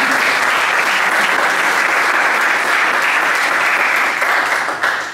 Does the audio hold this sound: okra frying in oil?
no